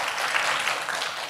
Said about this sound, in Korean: 하나님께 우리 감사 박수 올려드릴까요?